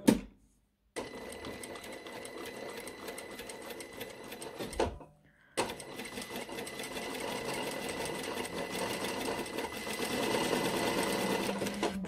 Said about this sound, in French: je fais ma piqûre à 2 mm